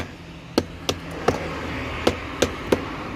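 Seven sharp hammer strikes chiselling out hard concrete, spaced unevenly with short pauses between them, each a crisp close knock over a low background hum.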